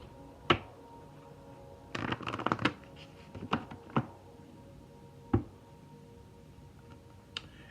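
Tarot cards being shuffled, a quiet near riffle burst in the middle flanked by scattered single card taps and snaps, with no talking.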